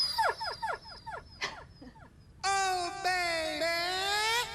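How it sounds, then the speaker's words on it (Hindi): A puppy gives a quick run of short, high, falling yelps. After a brief pause, it lets out a long, wavering whine, close and fairly loud, with no talk over it. "मुझे लगा पिल्ला है।"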